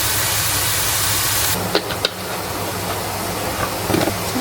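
Oil sizzles in a pan with bay leaves and lime leaves, a dense, steady hiss that drops slightly after a sharp crackle partway through, close and continuous with no talking.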